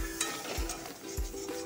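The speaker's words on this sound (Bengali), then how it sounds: "পটলের চুচাটা লাড়াচাড়া হচ্ছে" Pointed gourd peels frying in oil, stirred in a pan: steady sizzling with soft scraping and light clinks from the utensil at a slow rhythm.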